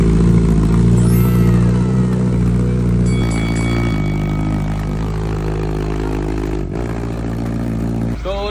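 A 2022 Suzuki GSX-S 1000 motorcycle on its stock exhaust revving close by, a loud rising roar early on that eases into a steady throbbing idle with a couple of blips, nothing else over it.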